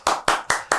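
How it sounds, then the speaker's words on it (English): Four sharp hand claps in an uneven rhythm, each a bright, close, loud crack with a short tail, played as a complex group clapping pattern. "Do some really complex clapping"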